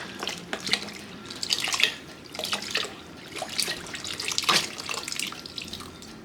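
Chicken broth pours from a 48-ounce box into a pot in a steady, splashing liquid stream with a few louder gushes, close by and with no talking.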